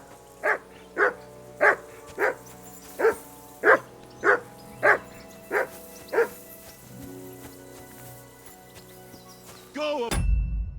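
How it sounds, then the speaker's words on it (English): A dog in Kingdom Come Deliverance 2 barks about ten times in a steady, evenly spaced rhythm, close and clear, followed by a sudden loud rush of noise at the end. "Henry, hey, call off that mutt of yours."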